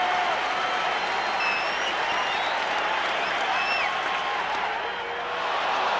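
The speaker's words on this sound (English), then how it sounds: "The crowd going wild." A baseball stadium crowd cheers and applauds at the 1988 NLCS Game 7 between the Mets and Dodgers in Los Angeles, a dense, sustained roar of clapping and shouting with a few whistles rising above it.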